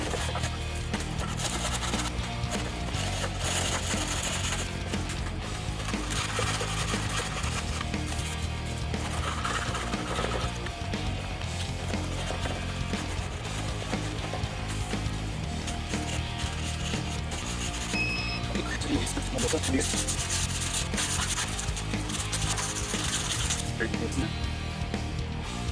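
Steady back-and-forth rubbing of a sandpaper block across the wooden body of a Washburn N4 guitar, a continuous scratchy rasp up close with slight shifts in rhythm.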